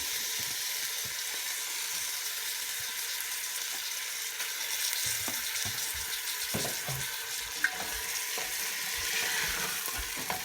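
Washed mutton bones fry with onion and tomato in a pan for mutton chalna, a steady bright sizzle with scattered crackles and faint stirring scrapes, close and even throughout.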